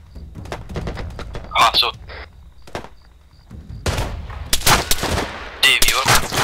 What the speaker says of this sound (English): Who's that firing in the middle of the field?